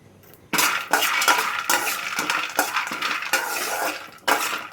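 Peanuts dry roasting in a pan while being stirred with a metal utensil: repeated scraping and clinking strokes in uneven bursts, close and fairly loud, with no voices.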